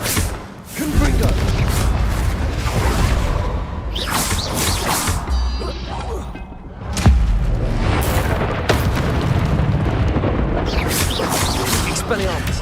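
Loud booming blasts of the Confringo blasting curse in the Hogwarts Legacy video game, several heavy impacts with crashing debris in a continuous battle din, with a voice calling out spells over it.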